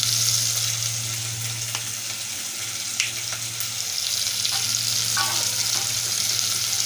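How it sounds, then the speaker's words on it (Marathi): Long-sliced onion sautéing in a pan with a steady, close sizzle throughout, a low hum running underneath and a few faint clinks, with no talking. "लांब चिरलेला कांदा घेतलाय मी. हा थोडासा परतून घेऊया."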